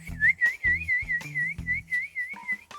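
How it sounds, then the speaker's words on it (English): Whistle used to call dogs: a steady, warbling high whistle held nearly continuously, with short pulsing breaks and thumping sounds underneath, ending in a lower brief tone. "Every one of them has a start whistle."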